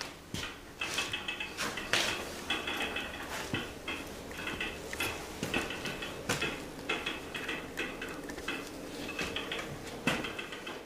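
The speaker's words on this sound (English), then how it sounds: "Sitting over there, you can hear it ticking." Telegraph sounder clicking in the telegraph room of a railroad museum, a steady run of sharp metallic ticks and clacks in irregular code-like bursts, fairly close and continuous with no talk over it.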